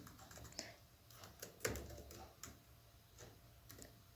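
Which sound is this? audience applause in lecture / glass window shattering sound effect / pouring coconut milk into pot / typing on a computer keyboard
typing on a computer keyboard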